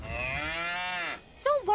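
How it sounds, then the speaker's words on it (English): A cartoon cow gives one long, loud, sustained moo, followed by a short pause and then two brief bursts of higher-pitched sound. "Too bad cows can't snowboard, huh, Ryder?"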